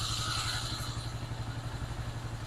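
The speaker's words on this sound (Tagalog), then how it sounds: "ginawa natin generator ang ating motor" Motorcycle engine running as a generator, a steady close idle with a low rhythmic throb and mechanical clatter, alone without talk.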